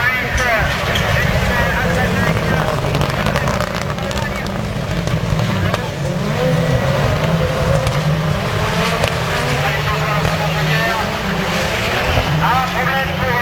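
Rallycross cars at a Kerlabo meeting, a Scirocco chasing a Peugeot 208, engines roaring steadily and loudly with shifting pitch throughout, overlaid by continuous commentary.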